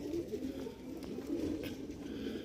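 A breeder pigeon coos softly and continuously nearby, a low murmuring call over steady background hum.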